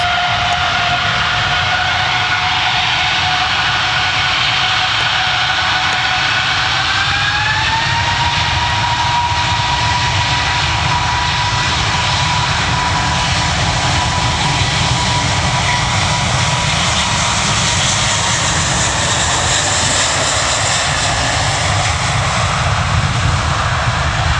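Ryanair jet airliner at Manchester Airport, a loud steady engine roar with a rising whine as it passes nearby, continuous throughout with no talking.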